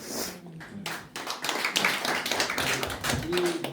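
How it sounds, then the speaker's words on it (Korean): Clapping breaks out at a church gathering as a pastor receives a professorship appointment, scattered hand claps mixed with voices talking over them at moderate loudness. "박수 한번."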